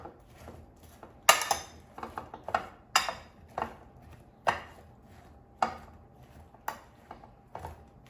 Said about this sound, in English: Let me just mix it so the seasonings are evenly distributed.